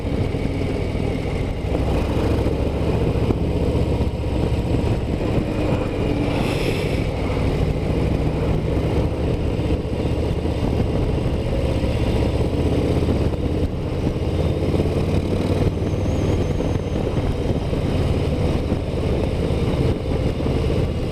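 A Harley-Davidson Low Rider ST motorcycle cruises along a country road, its engine a steady, loud low rumble with heavy wind roar throughout the ride.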